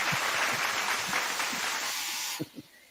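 An audience applauds at an inventor showcase and awards event. The clapping is steady and crowded for about two and a half seconds, then cuts off abruptly and leaves a few low thumps.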